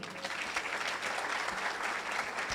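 Audience applause at a school's end-of-year ceremony: dense, steady clapping from a crowd, moderately distant and continuous throughout without pause.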